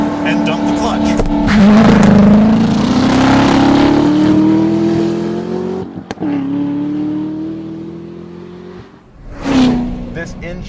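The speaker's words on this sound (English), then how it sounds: "We're going to try launch control on a Corvette ZR1." A Corvette ZR1 launches hard in first gear with the clutch dumped under launch control, its engine roaring loud and climbing steadily in pitch, with a sharp break near the middle and another surge of revs near the end.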